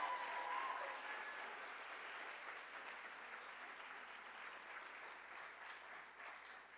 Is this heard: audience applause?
yes